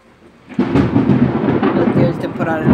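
Thunderstorm in the video game The Letter, a heavy rumbling roar that swells in after a brief quiet start and rolls on steadily with dense rain-like hiss.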